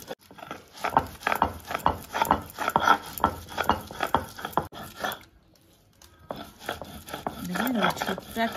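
Taro paste is ground by hand on a stone slab, a series of rough scraping and knocking strokes in an irregular rhythm, close and moderately loud, pausing briefly before the grinding resumes.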